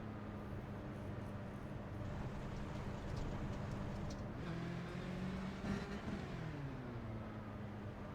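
An HPD race car in a racing simulator at Monza rolls slowly at low revs, a steady low engine drone with a slight pitch rise and fall, heard alone.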